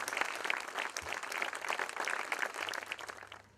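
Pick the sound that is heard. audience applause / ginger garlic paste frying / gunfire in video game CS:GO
audience applause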